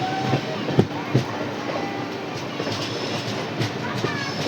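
The Jabalpur Express, hauled by a WAP-7 electric locomotive, rolls past with loud, steady clickety-clack of wheels over rail joints and a few sharper knocks, while a voice speaks briefly nearby.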